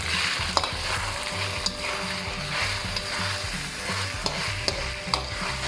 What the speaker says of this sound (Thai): ผมก็จะใส่พริกนะครับแล้วก็กระชายแล้วก็ตัว พริกไทยสดนะครับลงไปนะครับ